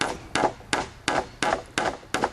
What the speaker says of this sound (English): with a hammer just tap those